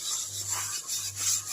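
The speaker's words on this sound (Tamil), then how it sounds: "லேசாக சோப்பு இரும்பு நரம் வச்சு லைட்டாக தேய்ச்சிடலாம்" Soap and steel wool scrubbed lightly over a dusty surface, giving close, steady rasping strokes that swell and fade in a continuous back-and-forth rhythm.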